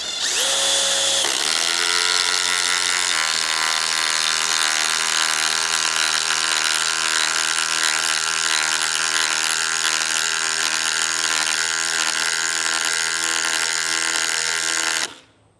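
A new DeWalt impact driver drives a 1/2 inch by 8 inch lag screw, hammering in a loud continuous buzzing rattle close by for about fifteen seconds, its pitch dropping once early on as the load rises, then cutting out abruptly.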